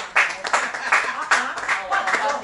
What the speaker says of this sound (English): Give a clap of it.